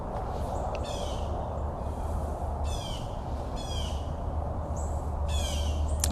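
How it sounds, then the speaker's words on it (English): Many birds calling around a Florida site during Tropical Storm Hermine, repeated harsh squawks and caws in short bursts over a steady roar of wind and rain, moderately close. "there's so many birds here"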